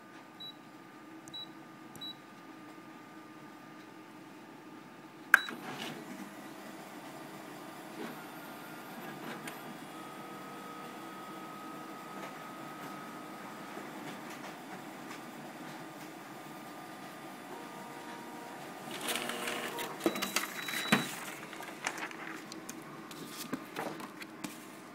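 A Canon iR C3220 colour copier with an imagePASS C-1 processor runs a copy job, giving a faint steady mechanical hum, a sharp click near five seconds and busier clattering feed noises toward the end.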